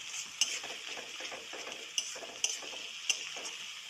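Spice paste for a fish curry frying in oil, a soft continuous sizzle with four sharp clicks of a spoon against the pan, near and without speech.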